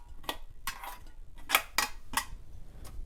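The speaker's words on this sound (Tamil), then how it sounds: "இப்போ இந்த புட்டை இதில் தட்டிக்கிறோம்." Freshly steamed puttu is knocked out of its steamer tube into a container: about six sharp, separate metallic taps at uneven intervals, close and moderately loud, with no talking.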